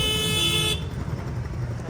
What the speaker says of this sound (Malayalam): നല്ല ഹോണടിയാണ്.